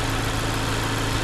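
A 2016 Mazda 3 four-cylinder engine runs with heavy vibration, a loud, steady, close-up rumble with a dense low hum and no break.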